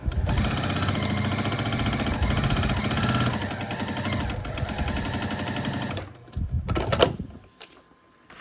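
Sewing machine stitching a paper-pieced quilt block, a loud, steady mechanical whirr for about six seconds, then it stops and a few handling knocks and rustles follow before near silence.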